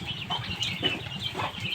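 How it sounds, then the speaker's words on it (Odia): Chicken clucking on a village farm where cows and vegetables are kept, a few short repeated calls over a steady outdoor background, no one talking. "ଦେଖ ଗୋଟେ କୁକୁଡ଼ା"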